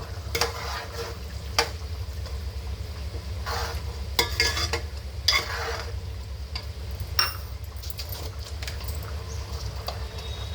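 Chicken curry with poppy seed and garam masala paste cooks on a high flame in a pan, giving a steady sizzle with occasional stirring scrapes and clinks. No one speaks.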